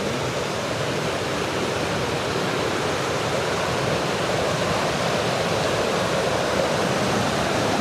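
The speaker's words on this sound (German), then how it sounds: "Bach." A mountain stream flowing in Flåm, Norway gives a loud, continuous rushing wash of water close by, steady and unbroken with no voices.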